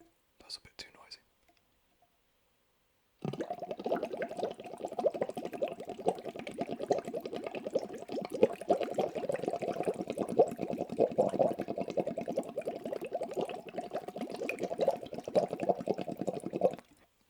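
Bubbles blown through water for an ASMR recording, a steady, close bubbling and gurgling that runs without a break for about fourteen seconds after a few soft whispered sounds and a short silence.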